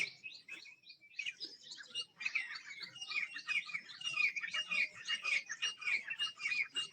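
Outdoor birdsong with partridge and koel calls: repeated high chirps and whistles, moderately close, continuing throughout over quiet background.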